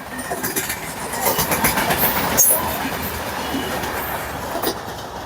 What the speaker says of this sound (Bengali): খুবই লম্বা একটি ট্রেন